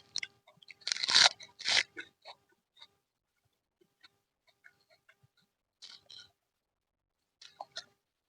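Crunchy chewing of Thai-Lao fermented papaya salad (tam sua), a few loud bites in the first two seconds and then softer, sparse mouth sounds, with rooster clucks audible in the background.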